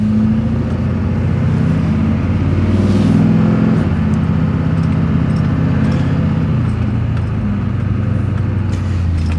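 A 2004 GMC Sierra 3500 Duramax pickup truck, with a swapped steering gear box, driving along with a steady engine drone and road rumble, close and continuous, faint rattles on top, no talking.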